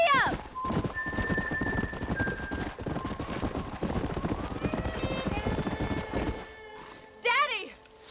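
Horse hooves clip-clopping at a fast pace in a Western open-world game, set against steady ambient noise, with a horse whinnying near the end.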